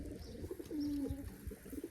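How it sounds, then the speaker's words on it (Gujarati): A pigeon gives a soft, drawn-out coo, with faint low cooing around it in a quiet space. "બાકી તો આ રહ્યા આટલા કબૂતર છે."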